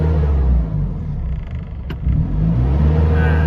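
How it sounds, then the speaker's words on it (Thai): An Isuzu D-Max 2500 pickup with its warning light on, its engine revved to about two thousand rpm, giving a loud, close, steady rumbling drone that dips briefly and then climbs again. "สตาร์ทได้ปกตินะครับ ไฟโชว์ เร่งรอบได้ สองพันประมาณสองพันนิดๆนะครับ"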